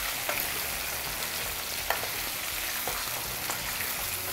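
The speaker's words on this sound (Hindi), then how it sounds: "इसमें हल्का सा नमक डाल देंगे, लगभग 1/4 चम्मच, और इसी के साथ इसको खूब अच्छी तरह से फ्राई कर लेंगे" Liver and minced meat frying with a little salt in a pan, a steady close sizzle with occasional soft stirring clicks and scrapes, no talking.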